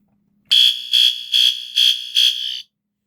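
An alarm test switch sets off a System Sensor SpectrAlert Advance fire alarm horn, which blares five loud, harsh, evenly spaced blasts up close after a quiet start, then stops.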